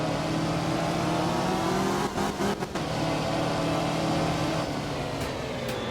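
Rally car engine in the video game Art of Rally, a steady loud buzzing drone with harmonic whine held throughout, briefly dipping and stuttering midway as the revs shift, no talk.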